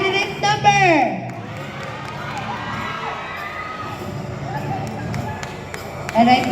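A pageant crowd at the Puerto Princesa Queens of Queens 2022 cheers and shouts in a steady, sustained roar that swells at the start and the end, with a voice rising above the noise.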